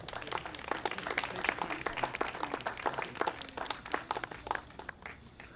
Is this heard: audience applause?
yes